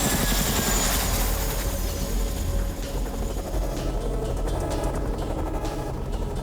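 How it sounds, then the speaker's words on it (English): A Royal Air Force Chinook helicopter in flight, a loud, dense rotor and engine roar that fills the whole clip, steady and close with a slight shift midway, no voices. "a Royal Air Force Chinook helicopter carries the patrol into Iraq"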